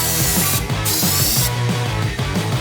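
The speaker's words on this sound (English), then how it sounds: "Grabbing your compressor and the Schutz gun and hooking in." Compressor-driven Schutz gun spraying Raptor coating during a Suzuki Sierra restoration, a loud continuous hiss with rhythmic pulsing from the running compressor underneath, alone and without talk.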